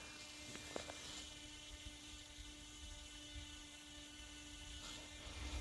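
LYZRC L100 V-copter drone yawing in flight: a steady high, whining propeller buzz with a constant pitched hum, heard from a short distance and sustained throughout.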